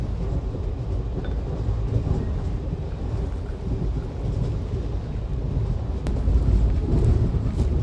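Steady low rumble of a passenger train riding toward Tehran, heard from inside the carriage as a continuous rolling drone with faint rattles and no speech.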